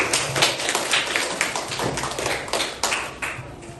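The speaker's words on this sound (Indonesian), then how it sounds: "Tepuk tangan untuk kelompok 2." A classroom of students applauds a group about to give a presentation. Crisp, close hand claps come in a quick, uneven patter that stays lively and fairly loud for nearly four seconds, with no talking.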